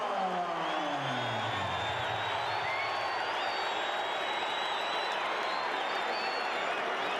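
A large boxing crowd at the Mike Tyson vs Michael Spinks heavyweight fight roars with sustained cheering and applause, a dense continuous wash of clapping and shouting that stays loud throughout.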